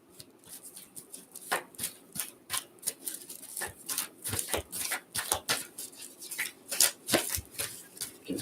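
Tarot cards are shuffled close up, with a quick run of soft, papery riffles and flicks in an uneven rhythm.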